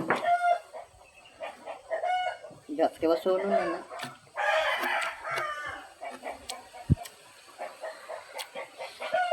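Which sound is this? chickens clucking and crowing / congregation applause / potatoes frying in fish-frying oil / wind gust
chickens clucking and crowing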